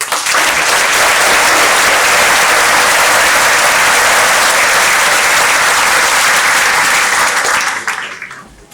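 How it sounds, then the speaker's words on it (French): A large hall audience at a mayor's New Year greetings ceremony in Montgeron gives loud, sustained applause, a thick continuous roar of many hands clapping that holds steady for several seconds before fading out at the end. "je vous propose de les applaudir"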